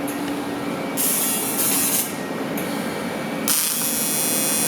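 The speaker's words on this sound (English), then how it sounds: "Oh, he's spraying bead." Bead blasting: bursts of hissing, high-pitched blasting spray come and go over a steady mechanical hum, each lasting about half a second to a second.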